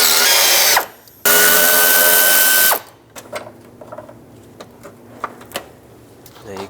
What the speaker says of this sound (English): So with a 7mm, I'm going to unbolt this bracket so I can remove the plastic piece.